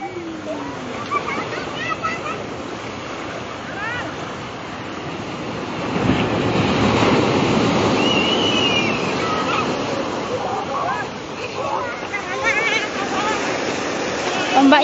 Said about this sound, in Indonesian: Awas hati-hati ombaknya gede.